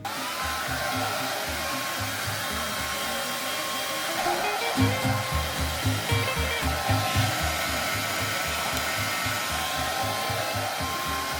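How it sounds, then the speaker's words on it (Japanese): A handheld hair dryer blows steadily on wet hair, a loud, continuous close-up whoosh whose pitch and airflow shift slightly midway as it is moved around the head while the hair is styled. "髪が濡らせたら、これをね、形を作りながらドライヤーしていきます。"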